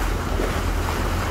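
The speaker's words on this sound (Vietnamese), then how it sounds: "có cái chiếc xà lan khẩm mới vừa chạy qua sóng kìa" Dense, steady roar of rough water and wind buffeting the microphone on a river as a heavily loaded barge churns past through the waves, loud and continuous.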